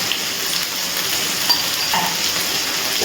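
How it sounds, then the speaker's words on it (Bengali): Chicken filling for Mughlai paratha frying in a pan as it is stirred, a steady close sizzle with a light scraping of the spoon, continuous and fairly loud, without talk. "এবার খুব ভালো করে একটু নাড়াচাড়া করে নিচ্ছি।"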